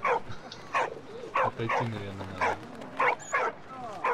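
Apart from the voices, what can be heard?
dog barking in video game Valiant Hearts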